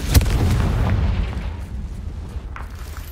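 A Confringo fire spell from Hogwarts Legacy lands with a sharp booming blast at the start, then a rumbling tail fades away under faint game effects.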